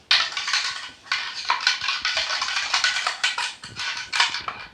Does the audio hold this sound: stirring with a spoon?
yes